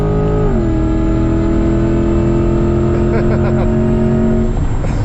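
A car accelerates hard during a roll race among supercars. A loud, sustained engine drone with a sharp pitch drop near the start holds steady, then turns rougher and more broken toward the end.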